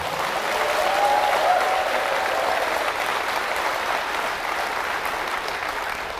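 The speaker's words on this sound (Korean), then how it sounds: "김대중 대통령께 박수 한번 보내주시기 바랍니다" Sustained audience applause at a political lecture in Gwangju, a steady dense wash of clapping that holds for about six seconds and eases slightly toward the end.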